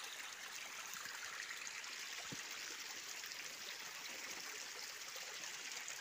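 Natural spring water runs steadily outdoors, a soft continuous trickling and babbling stream heard close but fairly quiet, with no talking.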